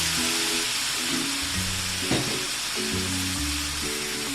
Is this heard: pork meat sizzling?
yes